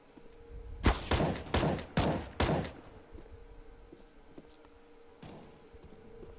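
Five sharp gunshots crack out in quick succession during a 2v2 shooter match, loud and close, followed by quieter game ambience and one fainter shot later.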